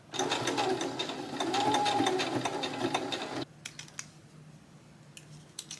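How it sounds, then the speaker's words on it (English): A sewing machine stitches down a zipper on a denim dress, running in a steady loud burst for about three seconds before stopping, followed by a few light clicks and handling taps. "And just sew it right down."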